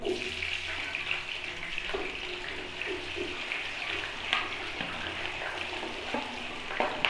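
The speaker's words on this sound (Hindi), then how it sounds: "हमारा तेल गर्म हो चुका है, आलू इसमें डालते हैं।" Potatoes going into hot oil in a home kitchen sizzle and hiss steadily and fairly softly, with a few brighter crackles and pops along the way and no voices.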